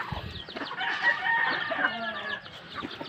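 Native chickens cluck and chatter close by in a steady, busy stream for about three seconds, with a brief crow-like call in the middle and no talking.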